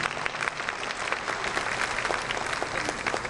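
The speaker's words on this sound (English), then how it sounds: "let's give them a round of applause" A crowd at the Lamar University Fall 2016 convocation gives a sustained round of applause. Many hands clap in a thick, steady roar that stays loud and even from start to finish, with no speech over it.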